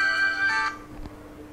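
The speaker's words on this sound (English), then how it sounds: "You want to catch that phone?" An electronic telephone ringtone trills brightly twice in quick succession, then cuts off, leaving a faint room hum and a soft knock.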